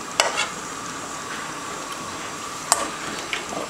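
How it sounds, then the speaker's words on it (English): Steady sizzling hiss of sofrito frying in a pot, with a couple of sharp clinks from a spoon stirring, close and moderately loud. "Ain't nothing like sofrito frying in your house."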